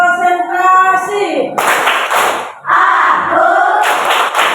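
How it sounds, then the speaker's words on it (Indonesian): Children standing in a classroom shout the counting chant of a 'tepuk konsentrasi' clapping routine, with loud bursts of group clapping between the chanted lines. "Tepuk 1, tepuk 2, tepuk 3, tepuk konsentrasi."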